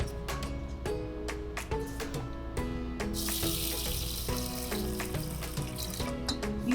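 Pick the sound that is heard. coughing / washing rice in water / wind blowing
washing rice in water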